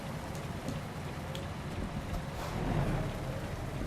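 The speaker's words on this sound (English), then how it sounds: "it's raining in Nevada" Steady video-game rain in American Truck Simulator hisses and patters evenly across the whole stretch, with no voices and no other clear sounds.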